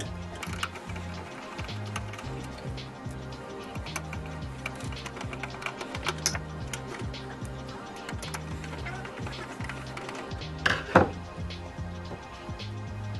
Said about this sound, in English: to remove the power supply, there are 4 screws on the back side. Get a Phillips screwdriver